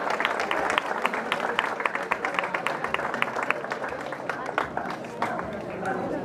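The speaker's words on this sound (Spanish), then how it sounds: "Muy bien, un aplauso." Festival crowd bursts into lively applause at a farolico event in Callosa de Segura, with sharp close claps over a busy hall and chatter mixed in.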